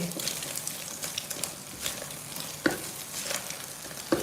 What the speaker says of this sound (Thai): ใส่หอมลงไปผัดกับไข่ได้เลยค่ะ